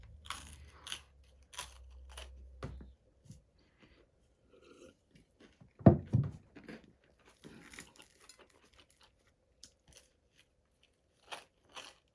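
Crunchy chewing of dry garlic bread close to the mic, with scattered crisp crunches and bites, one loud burst near the middle and soft clinks of cutlery, no talk.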